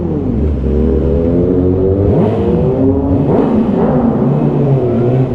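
A motorcycle engine revs hard nearby, its pitch rising and falling in quick loud bursts with a deep rumbling roar throughout.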